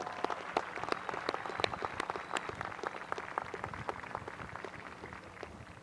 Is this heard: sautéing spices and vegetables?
no